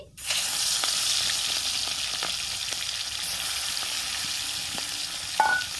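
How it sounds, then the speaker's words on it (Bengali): Prawns coated in salt and turmeric sizzle steadily in hot oil in a village-style kitchen, a loud continuous frying hiss with a faint clink near the end. "তেল গরম হয়ে গেছে নুন হলুদ মেখে রেখেছিলাম চিংড়ি মাছগুলো ভেজে নিচ্ছি"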